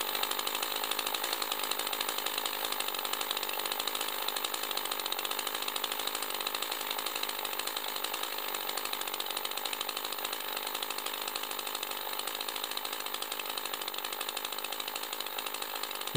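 A Shindaiwa 280TCS top-handle carving chainsaw, newly started and breaking in, idles steadily and fairly close, its small two-stroke engine giving an even buzzing drone with no breaks and no voices.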